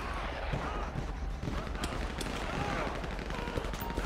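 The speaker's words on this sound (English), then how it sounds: "You guys hear the shots?" Gunshots in GTA 5 during a police gang-unit patrol, scattered sharp cracks and rapid bursts of automatic rifle fire over a steady background din, moderately distant.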